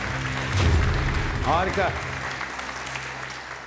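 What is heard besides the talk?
audience applause for Quran recitation contestant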